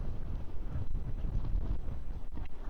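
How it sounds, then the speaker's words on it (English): Strong, steady wind buffeting the microphone during an e-bike ride through a park, a loud continuous low rumble with gusty surges and no talk. "you can really feel the wind blowing really hard"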